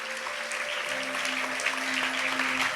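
Church congregation applauding steadily during a French worship service, dense continuous clapping with a sustained sung or organ-like tone underneath and no clear speech.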